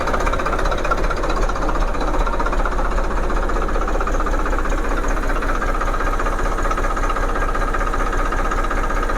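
A tractor's diesel engine runs steadily with the choke pulled, giving a loud, continuous knocking rumble that wavers slightly in speed.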